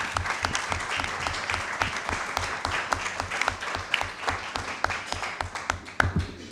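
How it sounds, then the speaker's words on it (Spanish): Sustained applause from a debate audience, dense clapping throughout with a few sharper claps standing out near the end. "te damos un aplauso"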